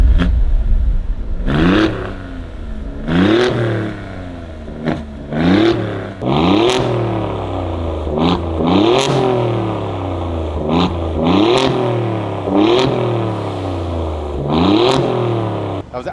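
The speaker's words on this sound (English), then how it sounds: "That was the Alfa Romeo Quadrifoglio. Sounds badass." Alfa Romeo Giulia Quadrifoglio with a resonator-delete exhaust, revved repeatedly in an exhaust shop: a series of loud, close, sharp blips that climb and fall, each rise followed by a short settle before the next.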